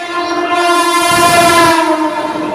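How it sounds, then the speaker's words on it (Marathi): A loud fast train rushes close by at Sion station, Mumbai, with a constant roar and a sustained horn blaring throughout, without pause. "फास्ट ट्रेन आहे"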